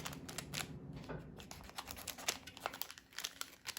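Small Fiskars scissors snipping open a nail strip package, giving a run of close, crisp crinkles and sharp plastic cuts in uneven bursts, with no talking.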